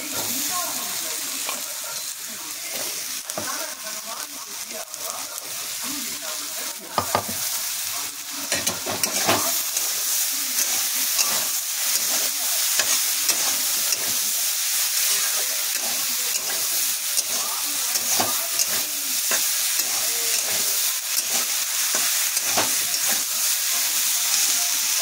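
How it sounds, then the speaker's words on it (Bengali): Potato and eggplant pieces fry in oil in a pan with a steady, loud hiss and sizzle lasting well over twenty seconds, broken by occasional scraping and stirring clatters. "আলু ভাজা হয়ে গেছে, বেগুনগুলো ছেড়ে দিচ্ছি।"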